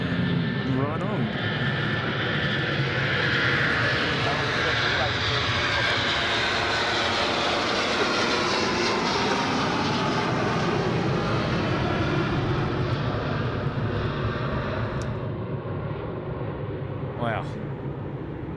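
Airbus A330 jet engines at Sydney Airport roar loudly and steadily with a deep rumble for many seconds, gradually fading near the end as the aircraft passes, while people talk faintly nearby.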